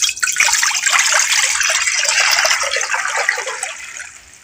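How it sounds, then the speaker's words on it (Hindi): Water pours from a jug into an empty wok in a home kitchen for syrup-making, a steady loud gushing splash that tapers off at the end, with no talk. "इसमें जी मैं पानी डालने लगी हूँ ये एक जग के बराबर"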